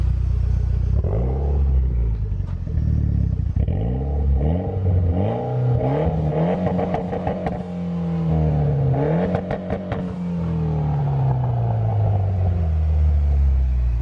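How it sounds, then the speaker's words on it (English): A car engine revs repeatedly, pitch climbing and dropping in rough surges over a deep idling rumble, close and loud. "I'm gonna rev it up a little bit now that the car is warmed up"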